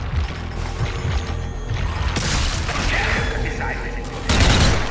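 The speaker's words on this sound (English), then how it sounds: "Grenade!" Grenade blast and rapid gunfire in the zombie shooter Zombie Army 4, a loud continuous burst of shots and mechanical clatter with a heavier crash near the end, with no voices.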